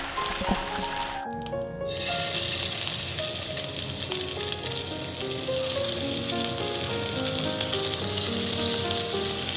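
Chicken pieces fry in butter in a pan, a dense continuous sizzle that kicks in loudly after a brief quieter moment and holds steady close up, with no voices.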